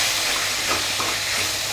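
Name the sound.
chopped tomatoes sautéing in a pan for chicken gravy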